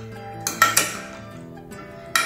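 Soya chunks are stirred into sauce in a bowl: a few sharp spoon clinks against the bowl, with quieter scraping and mixing between them.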